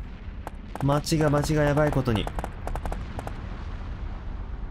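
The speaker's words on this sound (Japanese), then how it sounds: "おお、爆発してる。" Explosions in the video game City Shrouded in Shadow, a quick series of sharp booms and cracks following excited male speech.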